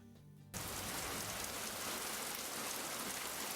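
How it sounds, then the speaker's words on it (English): Rain falls suddenly and steadily around a brand-new truck in a truck driving game, a loud, even hiss that switches on abruptly and keeps going. "Of course it's raining when you pick up your brand new truck."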